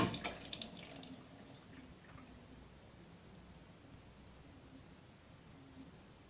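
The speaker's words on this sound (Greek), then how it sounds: "Λειτουργεί, παίρνει νερά τώρα." An Indesit washing machine with a fault starts filling: a few clicks at the start, then a faint, steady hiss of water flowing in.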